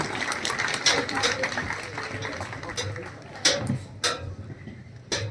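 Guests at a legal services awareness program in Madhya Pradesh clap for the children, a dense, steady round of applause in an indoor hall with a few sharper claps standing out near the end.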